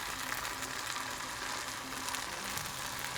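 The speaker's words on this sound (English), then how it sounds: "This just needs a little saute." Food sautés in a pan for homemade calzones, a steady broad hissing sizzle that stays close and even throughout, with no talk over it.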